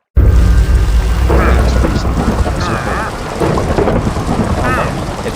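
Heavy rain roars steadily with low rumbling thunder underneath in a video game, loud and close, as brief voices break through now and then.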